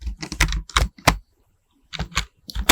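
Fingers typing on a computer keyboard, close and crisp, in quick bursts of keystrokes separated by a silent pause of nearly a second.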